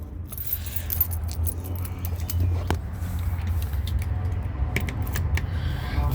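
Car keys jangle and clink in light, irregular metallic bursts close by, with faint background noise and no speech.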